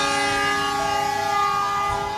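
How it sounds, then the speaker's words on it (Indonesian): Bima passenger train departing Kertosono station, a loud sustained multi-tone horn blaring steadily over the rumble of the moving train, close by and without talk. "baru saja kereta api Bima berangkat dari stasiun Kertosono"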